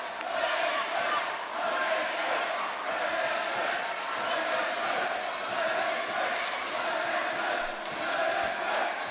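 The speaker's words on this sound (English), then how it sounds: "Crowd chanting JSK." Wrestling crowd at the AWA Coca-Cola Rumble 2024 event, chanting together in a dense, steady roar that fills the whole stretch at constant loudness, with no single voice standing out.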